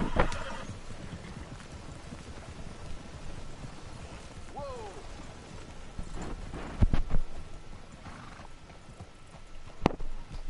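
Horse hooves clip-clop steadily in Red Dead Redemption 2 on a rainy trail, a chocolate roan's hoofbeats mixed with falling rain, a distant whinny and occasional louder thuds, with faint speech in the background.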